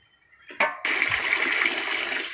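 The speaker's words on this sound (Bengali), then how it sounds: "এই যে মাংস ধোয়া হচ্ছে" After a couple of brief splashes, water gushes loudly and continuously over raw meat being washed in a basin, a close, hissing rush of running water with no talking.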